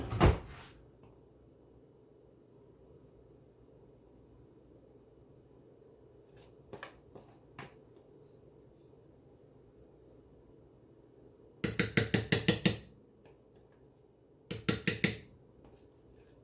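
Metal spoon and cutlery clattering in a kitchen drawer while making homemade hot chocolate, with a sharp clink at the start, faint taps midway, then two bursts of rattling silverware near the end.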